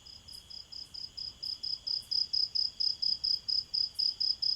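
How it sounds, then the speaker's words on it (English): A cricket chirps in steady, rhythmic clicking pulses, roughly three or four per second, growing louder as it comes nearer, with no other sound around it. "he only heard silence and the clicking of a cricket coming nearer and nearer"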